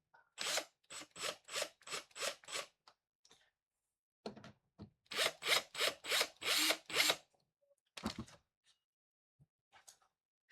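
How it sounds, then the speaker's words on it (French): A power tool unscrews screws during masonry work in short repeated whirring bursts, two quick runs of about seven pulses each, followed by a few softer isolated clicks and knocks in a quiet room. "Nous allons dévisser."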